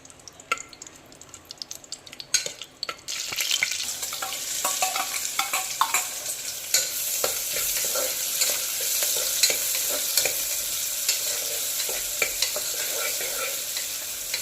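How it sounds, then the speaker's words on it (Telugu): Potatoes and spices with curry leaves frying in oil in a pressure cooker for potato pulao, a steady close sizzle with stirring scrapes, quieter at first then loud and continuous, no talking. "ఇవి కొంచెం వేగుతున్నాయి"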